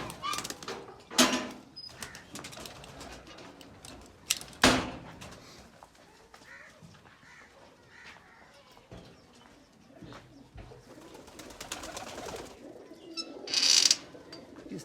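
Pigeons coo in a loft, low repeated murmuring calls spread through the stretch, with a few sharp loud knocks and a bright rattling burst near the end, no talk.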